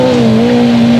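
A rally car engine holds a loud, steady high-revving drone through a corner, close by, with no speech over it.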